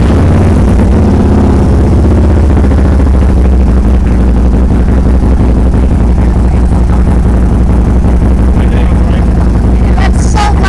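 A Harley-Davidson Road Glide motorcycle engine runs very loud and close, a heavy low rumble that fills the sound throughout, with voices briefly heard over it.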